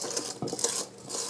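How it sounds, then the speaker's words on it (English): A stand mixer paddle scraping around the side of a bowl of tart filling, a few short scraping and clattering strokes close by with no talking. "use the paddle of the mixer to scrape the side of the bowl"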